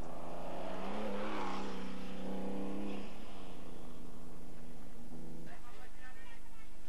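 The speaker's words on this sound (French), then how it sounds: "Étonnant de voir passer à toute vitesse ces voitures de course." Dakar Rally race cars from 1986 roar past at speed, rising then fading, with a second car following; a voice speaks over the noise.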